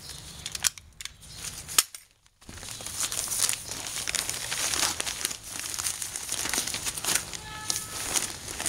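Plastic bag of garden soil being cut open with scissors and crinkled while a 5-gallon bucket garden is filled, giving sharp snips and rustling crinkles, with a short near-silent gap early, then steady crackling handling close by.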